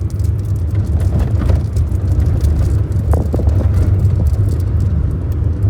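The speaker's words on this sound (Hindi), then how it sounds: "अब देखो थर्ड में ही चल रहा हूँ मैं, 40 के अराउंड स्पीड है।" A manual car driven in third gear at around 40 on a hill road makes a continuous, even engine and road rumble, close and loud throughout, with no talk.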